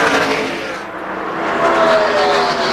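A pack of NASCAR stock cars roars through the start of the 2002 Checker Auto Parts 500, engines loud and close, swelling and dipping as the field surges past, with no talk over it.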